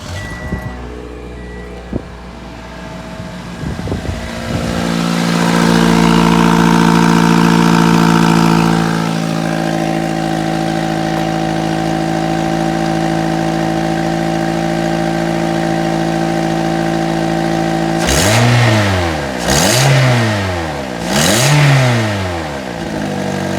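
A Toyota Matrix XR 1ZZ-FE engine with an exhaust manifold leak starts and idles with a steady drone, then revs several times in rising and falling surges, loud and close.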